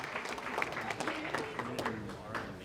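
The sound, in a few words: applause for the best man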